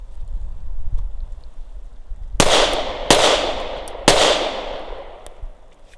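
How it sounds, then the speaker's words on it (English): Three loud, sharp handgun shots ring out at roughly one-second intervals during a dummy-round malfunction drill, each followed by a decaying echo, after a stretch of quieter background. "So we tap, we rack, and we assess, then we fire."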